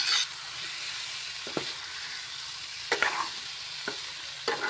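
Magur catfish frying in oil in a pan, a steady broad sizzle with several sharp clatters of stirring or turning scattered through.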